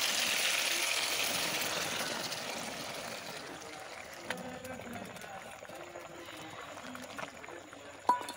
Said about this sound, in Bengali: এখন আমি পরিমাণ মতো জল দিয়ে কিন্তু ঝোলটা দিয়ে দেবো।